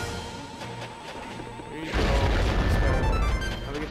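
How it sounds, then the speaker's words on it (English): Star Fox Assault gameplay: a rocket launches and detonates into a loud, sustained blast that roars through the second half, following quieter game sounds. "Rocket launch"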